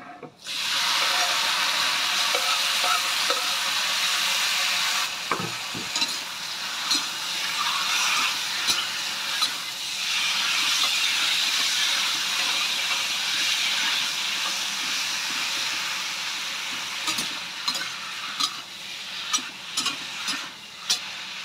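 Wood ear mushrooms dropped into a hot pan with fragrant fried ginger, a loud, steady sizzling hiss that carries on throughout, with occasional stirring clicks and scrapes.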